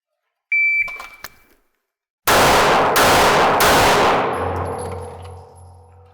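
A shot timer beeps, then three loud, sharp 9mm handgun shots fire in quick succession outdoors, their echoes ringing out and fading away.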